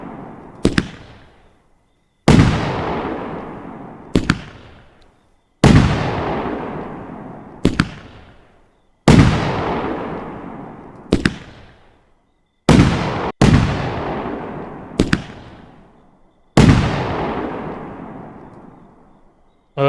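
Blue bullet fireworks burst one after another in the Firework Simulator PC game, about ten loud cracking explosions at irregular intervals, each trailing off in a crackling, hissing decay.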